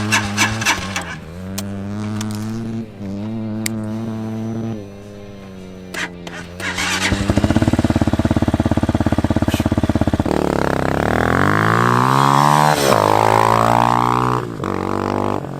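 Amazon Hawk DLX, an inexpensive $2,000 motorcycle, ridden off-road, its engine droning steadily and then revving up and down in rising and falling sweeps, loud and close throughout.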